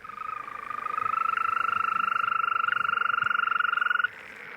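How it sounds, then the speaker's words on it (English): European green toads give a sustained, high, even trill at night, a long continuous call that is loud and near, then cuts off abruptly near the end, leaving faint background. "They are European green toads."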